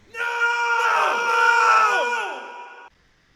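A man trapped inside a mirror screams at night, one long anguished wail that rises and falls in pitch, loud and close, lasting almost three seconds before cutting off into silence.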